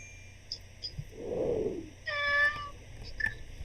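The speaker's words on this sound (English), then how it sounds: "I heard a cat." A cat meows twice, short bright cries standing out over a steady low hum and faint background sounds, with no talking.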